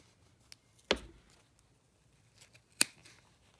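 A large pair of scissors snips through yarn for a pompom, two crisp close cuts about two seconds apart with faint handling rustle between, in a quiet room.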